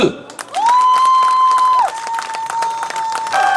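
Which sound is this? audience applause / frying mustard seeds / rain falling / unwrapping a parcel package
audience applause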